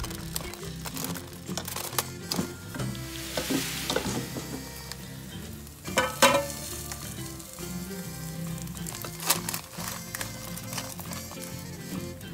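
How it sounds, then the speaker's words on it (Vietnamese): Squid crackles and sizzles steadily while grilling in an air fryer, a continuous close hiss broken by occasional sharper pops and crinkly bursts, with no talking. "Và mình nướng thêm 6 phút nữa là xong."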